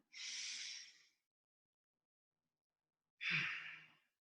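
Two slow, deep breaths during a qigong class, each a long breathy exhale close to the mic, separated by a couple of seconds of silence.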